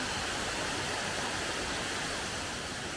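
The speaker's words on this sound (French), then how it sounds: "C'est la partie où il y a vraiment les grandes cascades." Large waterfall cascades in Laos give a steady, dense roar of rushing water that fills the whole clip evenly and loudly, with no voices.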